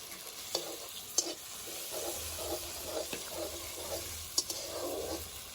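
A spoon stirs chickpea dal in a pan with a low, soft sizzle, bringing a few sharp scrapes and taps against the metal over a quiet kitchen background.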